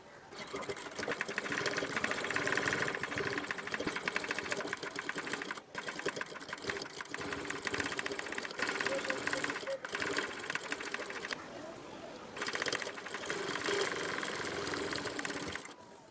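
A sewing machine stitching piping onto a kurti, running in a fast steady mechanical whir with one brief stop and a short pause, close by with talking over it.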